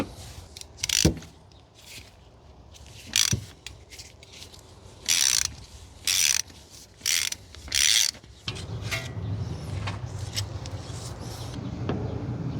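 A ratchet wrench loosens spark plugs on a car engine, sounding as a series of separate close, sharp clicking bursts, a few longer runs of ratcheting in the middle, then a steady low rumble toward the end.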